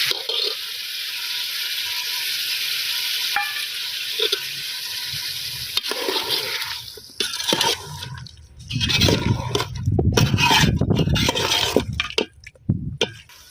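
Mutton being bhuna-fried with yogurt for mutton pulao, a steady loud sizzle at first, then wet squelching stirs and scrapes of a spoon through the meat in the pan, close up, with no talking.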